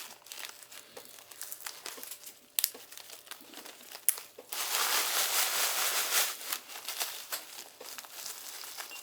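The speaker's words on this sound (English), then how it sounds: "let's zip that shut." A plastic bag holding freeze-dried turkey stock crinkles and rustles as it is handled and zipped shut, with scattered crackles giving way to a steadier, louder stretch of close crinkling.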